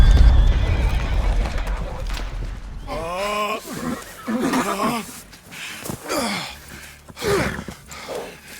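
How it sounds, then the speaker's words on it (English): A fatally wounded horse in Red Dead Redemption 2 lets out strained, wavering neighs and heavy breathing after a shootout with the Pinkertons, loud and close, with hoof sounds and faint voices around it. "Arthur and John's horses are fatally wounded by the Pinkertons"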